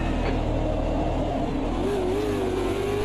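A 1983 V8 Supercar at Bathurst in the racing game AMS 2 accelerating hard, the loud close engine note climbing steadily in pitch as it revs up through the gear, with no talk over it.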